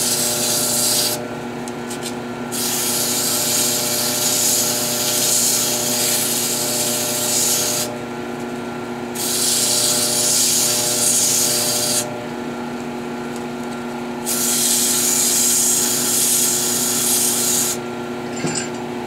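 Steady abrasive sanding against a wooden shaving brush handle spinning on a lathe, in long continuous strokes with brief pauses, over the constant hum of the motor.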